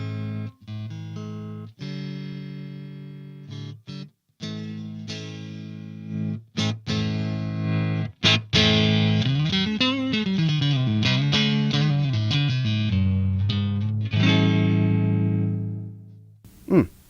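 Stratocaster electric guitar played through a Ceriatone AH50 amplifier on its clean channel: sustained chords and ringing single notes with pauses between phrases, then a denser run of bending, wavering notes before the final chord decays, loud and alone.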